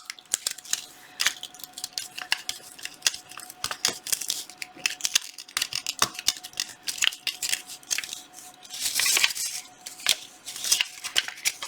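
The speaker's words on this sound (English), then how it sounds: "So now we just take the tape off." Tape peeled off cooled foil on a mermaid-fin craft project, producing close, faint crinkling and sharp ripping snaps in irregular bursts, alone without speech.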